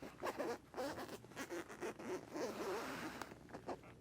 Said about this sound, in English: When you unzip everything in this awning